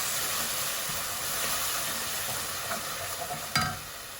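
Spices (turmeric, salt, chili) being stirred in a pan for brown lentil dal: a steady sizzling hiss with soft scraping, plus one sharper clink of the spoon near the end.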